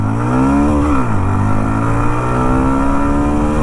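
A Hero Xtreme 125R 125cc motorcycle in eco mode revs up loud and close, engine pitch climbing, dipping briefly at a gear change, then rising again in a sustained run with no talk.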